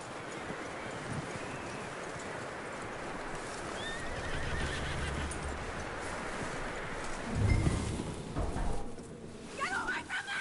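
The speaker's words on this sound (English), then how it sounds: "That looks like a decent horse. You should keep him." A horse in a PS4 video game whinnies and snorts amid clip-clopping hooves and rustling ambience, the neigh rising loudly near the middle of the clip over a soft, continuous game background.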